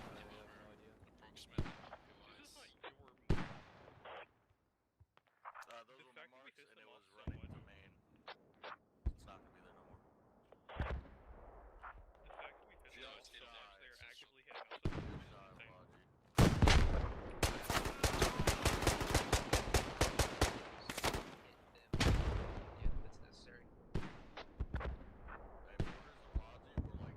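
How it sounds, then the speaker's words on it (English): Mortar rounds and gunfire in the military shooter game Squad, with dense bursts of explosions and shots that grow loud and sustained in the second half, mixed with talk and sparse impacts earlier. "they're mortaring us"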